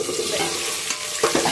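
Okra sautéing in a pan gives a close, steady frying hiss with soft stirring scrapes, fairly loud and continuous over a brief stretch without speech.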